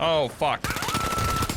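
Rapid turret machine-gun fire in the video game The Finals, a dense fast burst of shots running for about a second right after a short swearing outburst from a player.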